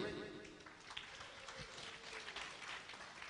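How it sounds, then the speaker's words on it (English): A crowd applauding steadily, a dense wash of clapping that holds for a few seconds with voices mixed in. "how about a round of applause?"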